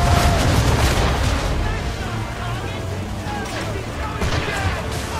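A ship's cannons fire a broadside during an Assassin's Creed III naval battle, a loud, continuous rumble of heavy booms over churning noise, with a fresh crack of fire near the end.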